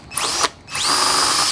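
A power drill runs in two bursts during work to remove the gas tank from a 4WD Daytona, a short whirring spin-up that stops, then a longer steady high whine, loud and close with no talking.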